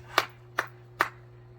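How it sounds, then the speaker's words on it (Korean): Three sharp, evenly spaced hand claps struck in unison, close and crisp, over a steady low electrical hum, with no talking. "자, 우리 다 같이 박수 한번 하고"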